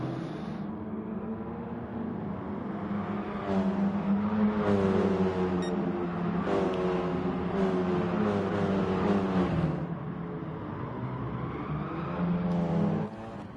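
Ford Focus Cup race cars racing at Tsukuba Circuit, a steady loud engine drone with rising and falling revs as gears change, several cars blending in one continuous roar.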